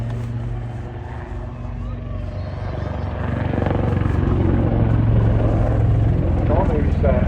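A Wildcat military helicopter flies at a seaside air show in Swansea, Wales, its rotor and engine giving a continuous, distant thrumming drone that grows louder toward the end. An announcer talks over the sound on the public address.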